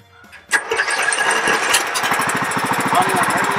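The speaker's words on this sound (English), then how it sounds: "we're going to go ahead and start the engine." A 17.5 horsepower lawn mower engine cranks and catches, then settles into a loud, close, rapid steady chugging run.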